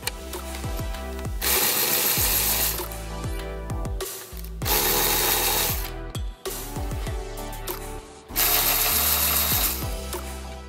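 Ratchet loosening the strut brace bolts on a BMW N55 engine bay, bursts of fast clicking that alternate with louder whirring spells, close and fairly loud, no speech.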